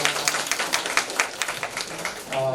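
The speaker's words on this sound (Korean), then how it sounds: "우리 신입 회원들을 위해서 한번 박수 한번 부탁드리겠습니다" An audience at a business book-club meeting gives a short round of applause for new members. The claps are quick and uneven and fade near the end, where a voice briefly comes in.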